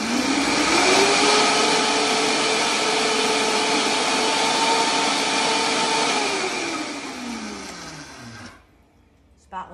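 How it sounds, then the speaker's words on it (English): A Vitamix blender self-cleans with water and a drop of dish detergent, its loud, steady motor whir filling the room for over eight seconds before it spins down and stops. "But watch how easy it is to clean a Vitamix."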